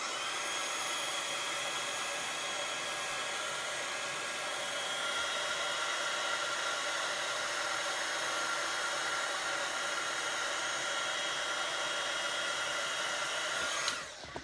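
Hair dryer blowing over wet paint, a steady loud whirring hiss held close for about fourteen seconds before abruptly switching off.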